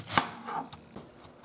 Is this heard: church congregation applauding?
no